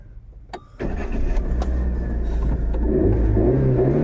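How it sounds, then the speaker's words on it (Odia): A car engine cranks briefly after a faint click, then catches and settles into a steady, loud idle that stays close and constant to the end. "ଗାଡ଼ି ଷ୍ଟାର୍ଟ ହେଲା ଆମର ଏବେ।"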